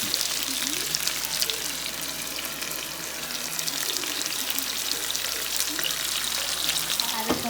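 Sauce poured over browned chicken in a hot pan, giving a loud, dense, crackling sizzle that holds steady from start to finish, close up, with no talking.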